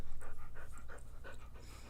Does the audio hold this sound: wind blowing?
no